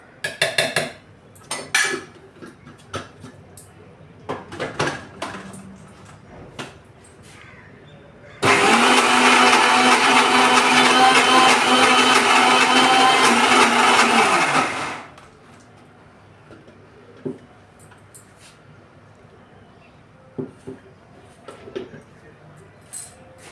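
A mixer grinder grinds moong and chana dal for masala badi, a loud steady whir running about six seconds alone before stopping abruptly, bracketed by clinks and scrapes of the jar and lid.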